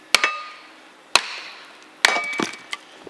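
A log of firewood is whacked down onto a hydraulic splitter blade, three sharp woody knocks about a second apart, each ringing briefly, close and alone, followed by a few lighter taps.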